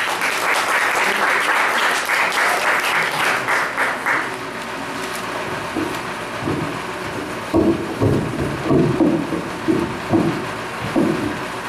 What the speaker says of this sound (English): Everybody give a big round of applause for Alan Holmes.